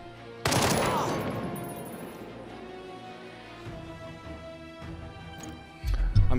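Gunfire erupts abruptly in the Jagged Alliance 3 video game, a loud opening burst followed by a sustained rattle of shots that gradually thins out, with another heavy burst near the end.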